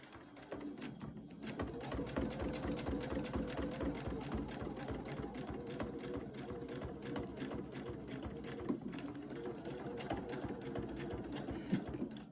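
A sewing machine stitches fabric for a bucket hat, a fast, even mechanical chatter running almost without pause, close and moderately quiet, briefly slowing near the start and again before the end.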